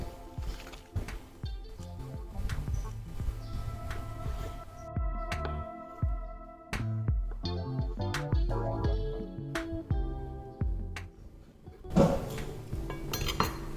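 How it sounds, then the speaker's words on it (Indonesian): Knife chopping a block of tempe into small pieces on a board in a home kitchen, a steady run of close, crisp taps and knocks with light clinks of utensils and dishes, no voices. "Setelah tempe kita potong kecil-kecil"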